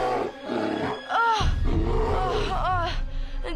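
A deep animal roar bursts out, followed by grunting growls, loud and close.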